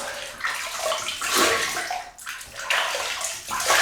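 Running water rinsing shaving lather off a face during a wet shave: steady close splashing and sloshing in uneven surges, alone without talk.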